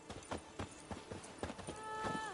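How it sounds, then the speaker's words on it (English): Horse hooves galloping in The Witcher 3, a steady run of clip-clop beats close by, with a faint whinny and a soft tonal game sound near the end. "Even a horse drops if you ride it with a constant gallop."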